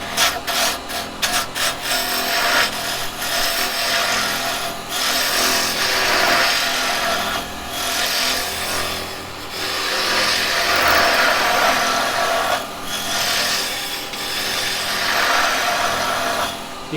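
Wood spinning on a lathe as a carbide chisel pushes in to taper the piece, a loud continuous rasping cut with brief tool taps at the start and slight dips as the pressure changes.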